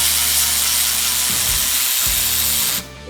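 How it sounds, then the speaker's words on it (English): A Milwaukee M12 cordless ratchet spins fast with a steady high whirring buzz, dipping briefly twice before cutting off abruptly near the end, close and loud with no talking. "This new Milwaukee freaking ratchet is amazing."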